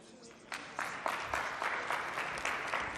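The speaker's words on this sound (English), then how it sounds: "Under your applause, everybody." An audience at the AFCON U17 2023 draw applauds CAF Head of Competitions Khalid Nassar with moderate, fairly faint clapping, rising in separate waves above a low murmur of voices.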